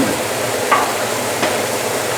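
Onions and mushrooms fry in a pan with a steady sizzle and a couple of light stirring scrapes, close and alone with no talking.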